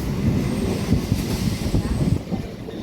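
A Chennai suburban local train on the Beach–Gummidipoondi line rolls into a station, close and loud, with a dense low rumble of wheels and carriages that eases off near the end.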